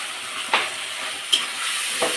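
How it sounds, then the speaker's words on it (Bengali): Spices fry with okra in a pan, making a constant close sizzle and hiss broken by three short scraping stirs. "এবার আমি মশলাটা একটু কষিয়ে নেব।"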